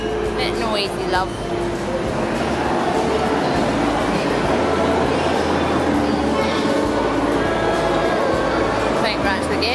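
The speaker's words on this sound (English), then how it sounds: "that train, oh, it's a bit noisy" Noisy train passing close by, a loud rumbling, rattling roar with rhythmic wheel clatter filling the whole stretch, while people talk over it.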